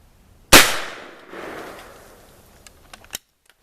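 An H&R Pardner .410 shotgun fires a single sharp, loud blast outdoors, followed by a decaying rumble and a few faint clicks.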